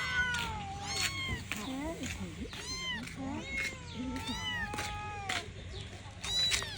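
A kitten meows repeatedly in short, high, rising cries, close and fairly loud, while people talk around it.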